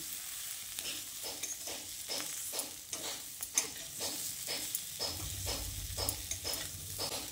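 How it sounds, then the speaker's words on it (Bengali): Lentils being stirred together with fried potatoes and drumsticks in a pan, giving a steady sizzle with rhythmic scraping strokes roughly every half second, close and fairly loud, with no talking. "ভেজে রাখা আলু ও ডাঁটাগুলো দিয়ে মুসুর ডালের সঙ্গে খুব ভালো করে আবারও মিশিয়ে নিচ্ছি"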